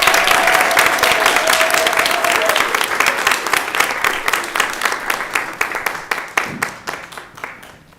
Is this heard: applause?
yes